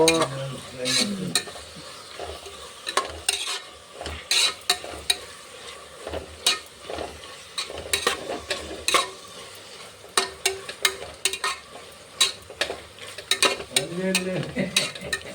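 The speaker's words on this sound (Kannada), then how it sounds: "ಸ್ವಲ್ಪ ಎಣ್ಣೆ ಒಳಗೆ ಫ್ರೈ ಮಾಡ್ಕೊಬೇಕು ಫ್ರೈ ಮಾಡ್ಕೊಬೇಕು" Spices such as turmeric and garam masala fry in a little oil while a spoon scrapes and stirs the pan, giving irregular clinks and taps over a faint sizzle.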